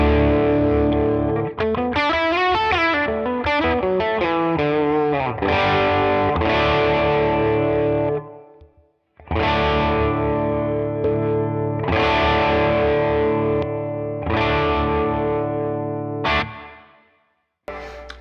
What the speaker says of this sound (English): we also can enable this 4-band EQ and boost with the second switch